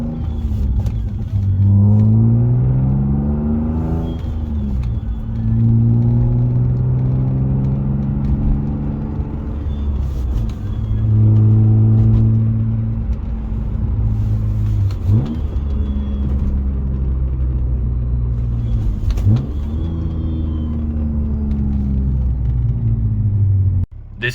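A high-mileage 149k-mile BMW E36 M3 engine runs close by and is revved repeatedly, rising and falling in several smooth sweeps over a steady rumbling idle, with no talking.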